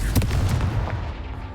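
A Confringo blasting spell in Hogwarts Legacy bursts with a sharp, loud boom followed by a rumbling decay lasting about a second.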